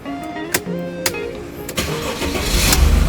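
A 2011 Mercedes-Benz E300 is started with the key: a few clicks and short cranking bursts lead into the engine catching and rising to a steady, close run.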